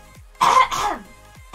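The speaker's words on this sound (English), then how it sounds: "Clear your throat." A single person clears their throat loudly and close up, a rough burst lasting about half a second that is followed by a softer rasping tail.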